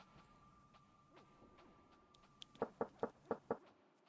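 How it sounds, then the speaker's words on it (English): Five evenly spaced knocks on a door in the video game Quest for Glory 2, crisp and close, following a quiet stretch with a faint steady tone underneath. "No one hears you knocking."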